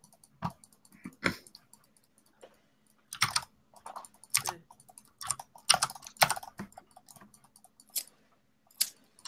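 Loud typing on a mechanical keyboard, with clustered clacking keystrokes in irregular bursts and short pauses, close and dry with no talk.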